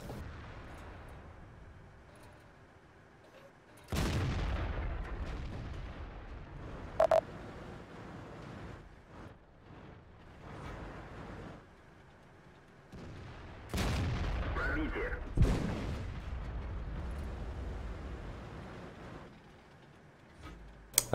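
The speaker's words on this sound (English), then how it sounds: "I think something else shot at me" Tank gunfire in World of Tanks on the Sand River map, heard from an Object 416: two sharp booming shots with long decaying rumbles, separated by quieter stretches with smaller impacts.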